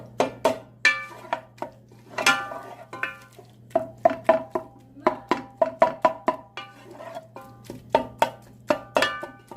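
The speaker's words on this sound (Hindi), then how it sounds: "अब हम चमचे की मदद से मैश करेंगे" A metal spoon mashes boiled garlic, onion and tomato for a bottle gourd curry, knocking rhythmically against the pot in quick, close clatters over a low steady hum.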